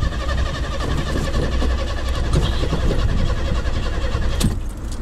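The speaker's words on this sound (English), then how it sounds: "I'm gonna see what this car crank up." Car being cranked and started, engine noise churning steadily with a rough, uneven rumble and clicks, fairly close, with no clear talk over it.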